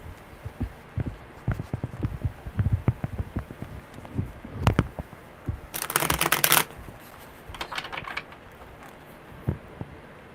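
Tarot cards shuffled close by, a series of soft taps and flicks broken by a brief loud riffle midway and a lighter one after, in a quiet room.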